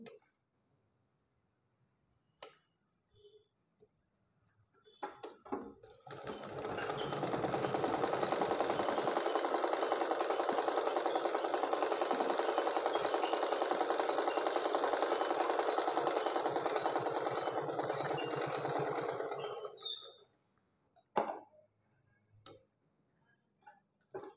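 Sewing machine stitching blouse lining cloth, running in one continuous rapid whirring burst of about fourteen seconds, with a few quiet clicks and handling noises before and after.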